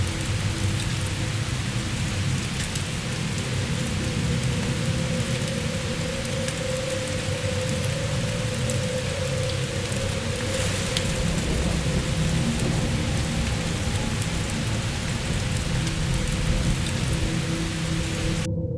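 Heavy rain pours steadily on surfaces while low thunder rumbles and rolls underneath throughout, with no voices.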